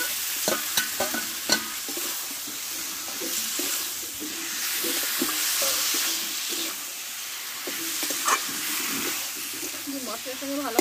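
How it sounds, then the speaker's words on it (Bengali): Fresh data stalks and vegetables sizzle in a spice masala as they are fried and stirred, a close crackling hiss broken by repeated scraping and clattering spatula strokes, with a voice talking faintly beneath. "এবার কষে রাখা সবজিগুলো মেলে ঢেলে দেবো।"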